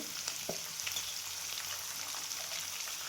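Capsicum, carrots and onion sautéing over a fairly high gas flame for vegetable upma, a steady close crackling sizzle with light stirring scrapes, no talking.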